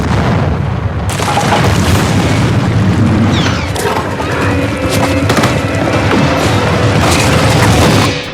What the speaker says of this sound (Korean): 건물이 역행 폭발하는 장면까지 연출.